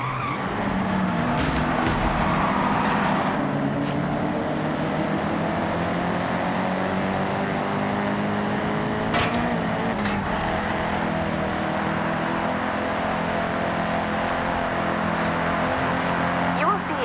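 A convoy of Nissan cars in the Forza Horizon 6 video game drives past, with engines droning steadily, a few louder passes and brief tyre squeals, while a player talks throughout.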